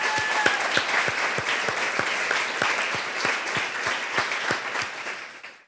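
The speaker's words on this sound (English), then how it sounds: "Let's give them a round of applause." An audience at a live design event in New York claps steadily, a dense round of applause with some individual sharp claps, fading slightly at the end.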